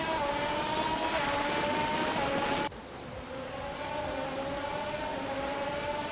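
In a racing video game, cars including a 2022 McLaren launch at the start at Watkins Glen Short, their engines a loud continuous whine that drops in pitch midway through, with no voices.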